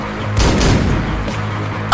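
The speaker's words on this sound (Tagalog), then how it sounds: "Takbo, may baril!" Several gunshots ring out in a burst during a chaotic staged scene at a house, with sharp blasts clustered early and a few scattered reports following, loud and close.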